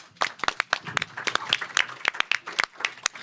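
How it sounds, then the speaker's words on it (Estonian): Audience applause at a panel discussion on managing health with technology at a festival: a burst of brisk, irregular hand clapping from a modest crowd, fairly close and steady, with no speech over it. "aitäh Birgit, aplaus."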